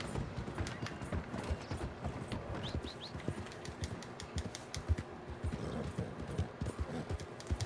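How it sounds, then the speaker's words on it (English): Horse hooves from the video game Red Dead Redemption 2 clip-clop in a quick, steady trotting rhythm, close and continuous, with a brief whinny-like squeal partway through. "Come on, you temporary horse, I need you."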